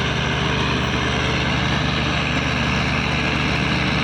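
A continuous low diesel engine drone from three tractors approaching on a rough, wet track rumbles steadily throughout, loud and close, with no break.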